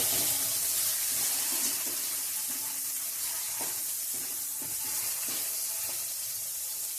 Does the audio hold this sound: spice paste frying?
yes